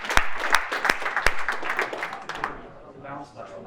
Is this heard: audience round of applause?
yes